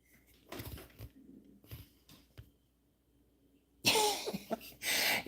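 A gray pet bird imitates a human cough, giving a few short, sharp cough-like bursts at close range in a quiet room, with soft rustling between them.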